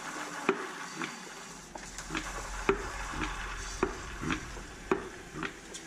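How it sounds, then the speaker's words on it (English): Hose sucking rear differential fluid out through the dipstick hole of a 2017 Toyota Tacoma, a continuous gurgling slurp with rhythmic bursts of air being pulled, close and steady throughout. "There we go, you can hear it pulling air now."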